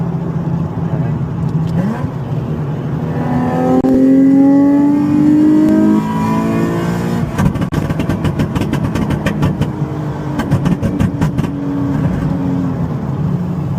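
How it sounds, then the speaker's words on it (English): A Nissan 370Z engine idles and revs on a flame-map tune, then a rapid series of sharp exhaust pops and crackles breaks out, loud and close. "this exhaust, it just keeps like popping really fast"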